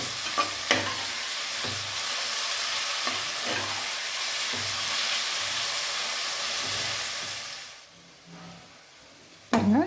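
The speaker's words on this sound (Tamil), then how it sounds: "நம்ம இப்படி வதக்கி எடுத்துக்கலாம். இப்போ போட்டேன்." Onions sauté with a little salt in a pan for mutton dum biryani: a strong, continuous sizzle with rhythmic stirring scrapes that suddenly cuts away near the end before a sharp clatter.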